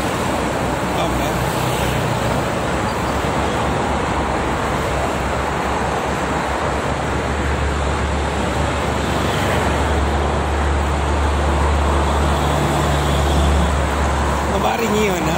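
Morning traffic on the Jakarta–Cikampek toll road, a steady broad roar of passing vehicles with a low rumble throughout, fairly loud and continuous, with wind and faint voices mixed in.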